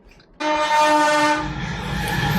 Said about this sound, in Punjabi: ਦੇਖ ਲਓ ਟ੍ਰੇਨ ਵੀ ਜਿਹੜੇ ਬਾਹਰ ਬੈਠੇ ਇੰਡੀਆ ਦੀ ਟ੍ਰੇਨਾਂ ਵੀ ਦੇਖ ਲਓ